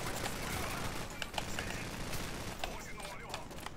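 Dense, continuous gunfire in the Call of Duty online campaign, with rapid overlapping shots and bursts filling the whole stretch, loud and close, with game sounds mixed in.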